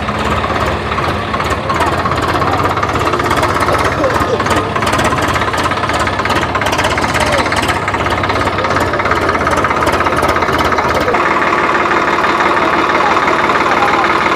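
A 2024 Swaraj 855 tractor engine runs loudly and continuously with a knocking, chugging rhythm, close by, during a field tractor competition, its tone shifting slightly near the end.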